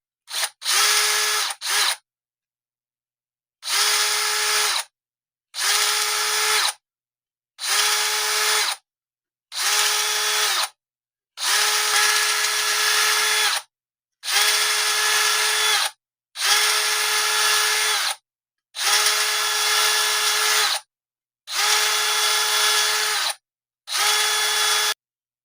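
Power drill with a 25/64 in (9.9 mm) bit boring into a guitar part, in a string of about ten loud, close bursts of one to two seconds each, separated by short silent gaps.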